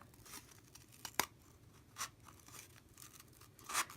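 Scissors or a point working through a small felt hat brim for a mini stocking cap ornament, making a few short, close, crisp snips and tearing scratches separated by quiet pauses.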